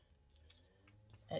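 Quiet snips of scissors cutting adhesive tape, a few short crisp clicks in close succession, faint and close by.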